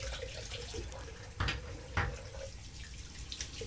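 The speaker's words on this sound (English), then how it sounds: "let's give this a rinse." A razor is rinsed under a running tap, the water hissing steadily with a couple of brief louder splashes as the blade passes through the stream.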